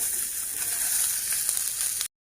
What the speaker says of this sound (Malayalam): ഇതും കറിവേപ്പിലയും കൂടെ ചേർത്ത് നമുക്കിത് ആദ്യം ഒന്ന് വറക്കാം